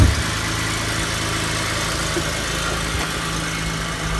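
A used family car sits at a steady idle, a low, even engine hum running throughout with a slight vibration and no talk.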